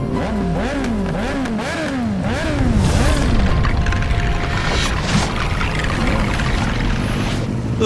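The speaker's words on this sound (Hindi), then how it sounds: "ये बाइक को क्या हुआ? मेरे बिना कुछ करे ही अपने आप ही स्टार्ट हो गया।" A magical electric motorbike starts up on its own: a whine rises and falls in several quick cycles, then a loud, steady rumbling roar, with no talk.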